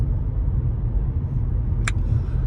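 Road rumble from inside a moving car, a loud, steady low-frequency drone broken by one brief click near the end.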